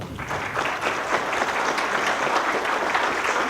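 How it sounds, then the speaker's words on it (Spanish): A crowd applauds steadily, dense clapping filling the space at a constant loudness from start to finish with no voices over it. "Brindémosles un fuerte aplauso."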